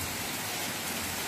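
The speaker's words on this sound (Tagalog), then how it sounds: "Kaya sabi ko, pwede po ba dahan-dahan lang ang ulan?" Heavy rain falls in a dense, constant wash of hiss, steady and unbroken with no other sounds.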